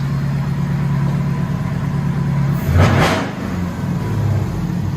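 A supercharged 6.4-liter V8 engine in a Chrysler 300C with headers and Flowmaster Outlaw exhausts idles with a deep rumble, then gives one sharp, loud rev that quickly drops back to a steady idle.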